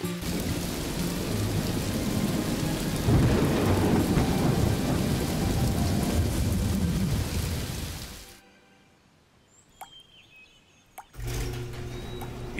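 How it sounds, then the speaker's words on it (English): Steady heavy rain pours loudly in a children's cartoon with thunder rumbling, then stops abruptly, leaving near silence with a few faint drips. "Oh, it's raining already."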